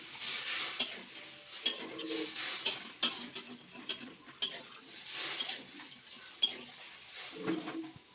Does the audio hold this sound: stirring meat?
yes